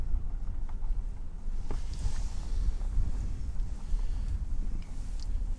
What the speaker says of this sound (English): the wind's blowing pretty good, so I'm hoping the microphone doesn't